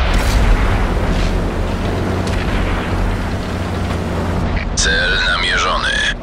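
A Rhm.-Borsig Waffenträger tank destroyer fires its cannon in World of Tanks: a loud, heavy boom that rolls into a long low rumble, followed by a short synthetic crew voice speaking over the fading roar.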